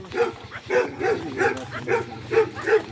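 A dog at a rural dera barks repeatedly in a steady rhythm, about seven loud, close barks in quick succession with no talk over them.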